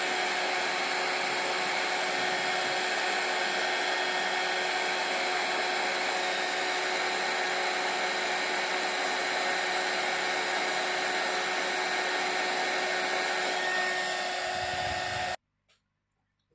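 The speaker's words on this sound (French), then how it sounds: "Donc je chauffe bien avec mon heat gun." A heat gun blows steadily and loudly for about fifteen seconds, warming embossed texture on a handmade card, then cuts off abruptly into silence.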